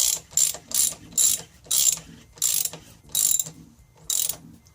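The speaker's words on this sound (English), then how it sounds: "we're going to just put back on the retaining bolts for the fuel rail" Ratchet tightening the T10 retaining bolts on a Mercedes fuel rail, with about eight quick bursts of crisp clicking in a steady back-and-forth rhythm, close and clear with no talk.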